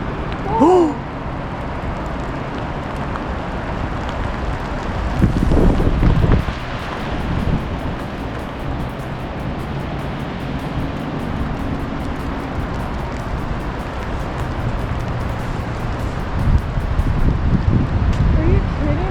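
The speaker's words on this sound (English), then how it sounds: "Hang on, I think we got another gust coming." Strong 50-60 mph wind gusts roar across the summit of Mount Si during a blizzard warning, buffeting the microphone in long, surging waves under occasional talking.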